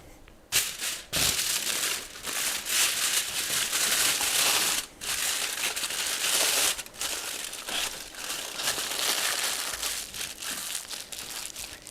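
Aluminium foil crinkled and crushed by hand to cover a lamb rib roll before baking, a dense, loud, continuous crackle over twelve seconds with a few brief pauses and no talk.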